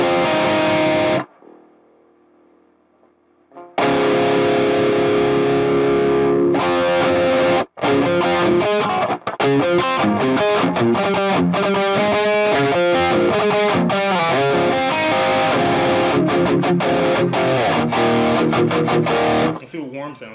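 Electric guitar plays through an Airis Effects NAO drive pedal on its normal setting, overdriven chords and riffs ringing loud after a brief pause, with short breaks between phrases.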